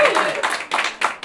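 Scattered clapping from a small comedy-night audience in Toulouse, a few bursts of hand claps in quick uneven groups, fairly close and mixed with some murmur.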